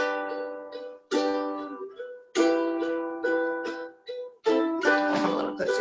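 Ukulele strummed through the melody of a song in a beginner ukulele class, clear plucked chords in separate phrases with brief pauses between them, close and alone with no voices.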